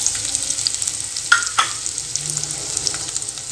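Thinly sliced onion fries in oil with spices, making a steady crackling sizzle close by. A couple of sharp stirring scrapes cut in midway, and no one speaks.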